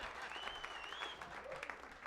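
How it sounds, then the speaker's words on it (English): A comedy club audience in Carson City applauds comedian Greg, a dense, steady round of clapping with a thin whistle rising above it partway through. "give a big round of applause for Greg on his last night ever performing in"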